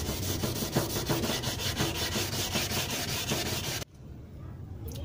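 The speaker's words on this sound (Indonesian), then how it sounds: "setelah rata dengan amplas nomor 240, kita lanjutkan dengan amplas 500" Wet sanding of an acrylic tube with sandpaper under running water, a steady rapid back-and-forth rubbing rasp close up, stopping abruptly near the end and leaving quieter background noise.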